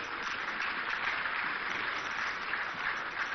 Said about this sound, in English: So as he walks, let's help with an applause